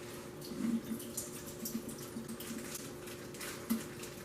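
Excess water from cooked ramen noodles is poured off, making a steady trickling and splashing stream with a few louder gurgles, fairly close and moderately quiet.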